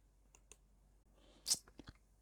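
A handful of quiet, separate keyboard clicks come from someone typing code, with one slightly louder tap near the middle, in an otherwise near-silent room.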